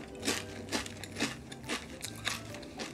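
Richam potato chips, thick and rough with airy pockets, crunch between the teeth in a steady run of about six close, soft bites, each followed by quieter chewing.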